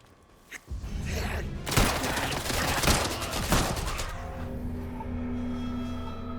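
Submachine gun fire in the video game Atomfall, a dense burst of rapid shots lasting a few seconds, preceded by a single sharp crack and trailing into quieter game ambience.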